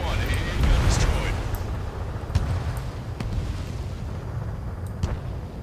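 An AA gun blown up during an Ace Combat air mission, a loud rumbling explosion at the start that fades into a steady roar of jet engine noise with a few sharp cracks.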